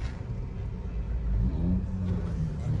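A car engine revving while the car is parked, a steady near rumble that rises briefly in the middle.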